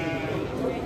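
Sheep bleat at a busy livestock market, a short wavering call over a dense crowd murmur of voices and animal noise.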